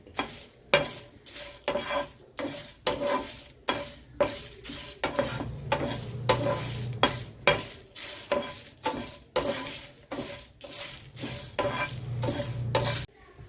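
Dried red chilies and curry leaves frying in a pan with steady rhythmic stirring, a spoon scraping the pan in regular strokes over a continuous sizzle, close and fairly loud with no talking.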